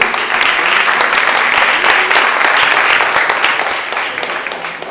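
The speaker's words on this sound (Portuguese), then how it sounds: "Vamos aplaudir a palavra de Deus." A church congregation breaks into applause, a loud, full burst of many hands clapping together in a large room, sustained evenly for several seconds.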